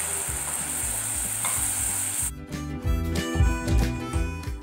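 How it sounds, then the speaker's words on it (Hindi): Cashew and peanut paste goes into a hot pan for Jain matar paneer, with a loud sizzle at first, then steady stirring and scraping. The sizzle fades midway while the stirring keeps a repeated, fairly loud rhythm with no talk. "जो काजू और सिंग की पेस्ट बनाई थी अब वो ऐड करेंगे।"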